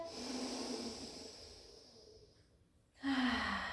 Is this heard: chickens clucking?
no